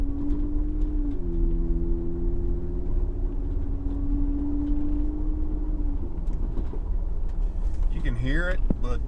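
Jeep Wrangler JL with a Flowmaster high-clearance cat-back exhaust idling, a steady low rumble close by with a faint tonal drone and wind noise, ending with a short rising sweep.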